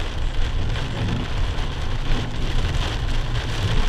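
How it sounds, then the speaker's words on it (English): Heavy rain in England pours down in a dense, steady hiss, loud and close throughout with no talking, a constant downpour drumming on surfaces. "Look at that! Some serious rain."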